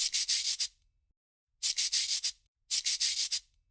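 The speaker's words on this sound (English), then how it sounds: "for a smoother finish, I need to use this fine wet sandpaper" Hand sanding a custom Funko Pop figure with fine wet sandpaper: three bursts of quick back-and-forth rasping strokes, several strokes per burst, close up with short pauses between.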